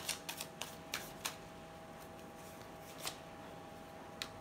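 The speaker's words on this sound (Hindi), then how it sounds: "और कार्ड्स हम निकालते हैं।" Tarot cards being shuffled and drawn by hand: a scattering of soft, quick papery flicks and taps, quiet and close, bunched in the first second and then spaced out with long gaps between them, with no voice over them.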